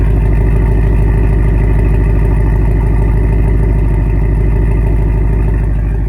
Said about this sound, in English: Another pro for me would definitely have to be the exhaust. Just listen to that item.